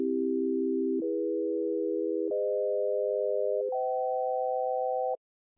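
Pure sine-like tones play a rising progression of four sustained chords built from justly tuned major thirds, each held over a second and stepping upward in pitch, smooth and steady with no voices.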